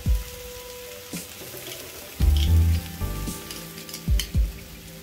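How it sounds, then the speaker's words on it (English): Ginger garlic paste fries with golden-brown onion in a pan, a loud sizzle bursting up as it hits the oil, followed by stirring scrapes and a few sharp clanks of the utensil. "And fry it until the raw smell of ginger garlic is gone"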